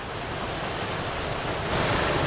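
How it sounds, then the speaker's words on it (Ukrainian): Cossack Tears waterfall near Bukovets village, a steady broadband rush of falling water heard close up, continuous and fairly loud with a slight swell near the end, no voices. "Зараз вам покажу водоспад козачі сльози."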